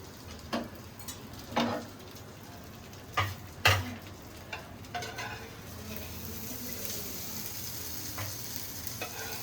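Egg frying in a pan with chili powder, salt and crushed garlic: a low, continuous sizzle broken by several sharp clacks of a utensil against the pan in the first few seconds, then fainter taps later.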